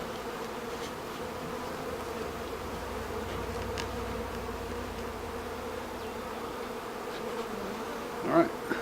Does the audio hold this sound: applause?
no